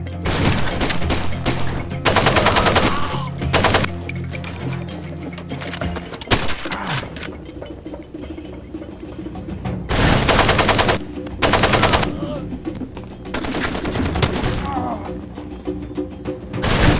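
Gunfire in the video game Far Cry 2: repeated loud bursts of automatic fire and single shots in irregular clusters, with quieter gaps of ambient game sound between volleys.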